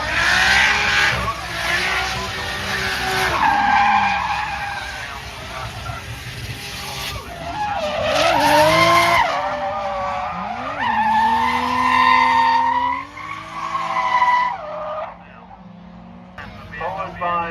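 Drift cars at a Tunerfest North drift event slide with long, wavering tire squeals and revving engines, loud and close, rising and falling in several passes while commentators talk over the action.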